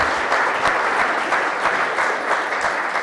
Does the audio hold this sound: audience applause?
yes